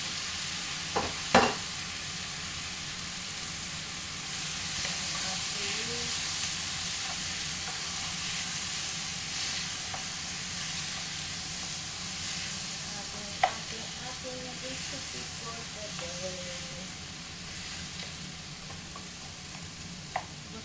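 Garlic and tofu fry quietly in a pan, a soft continuous sizzle with a few light clinks and stirring knocks.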